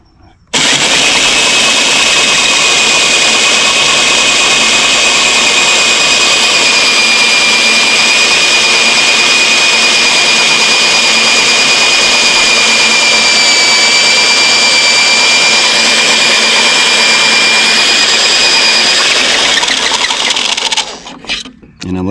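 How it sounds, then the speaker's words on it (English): Loud, steady high-pitched whine of a power drill boring a hole in a 2005 Ford E250 van, running continuously for about twenty seconds, then spinning down and stopping near the end. "So then you just drill,"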